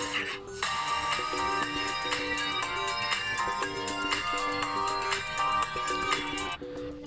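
A ringtone plays on a POCO X5 Pro phone, a bright electronic melody of repeating synth notes and beats, loud and clear with no one talking.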